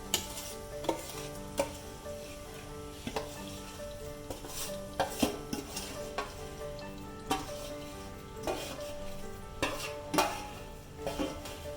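Roasted urad flour being stirred into hot jaggery in a pan over medium heat, with a continuous scraping, sizzling texture and repeated sharper knocks of the spoon against the pan, close and steady throughout.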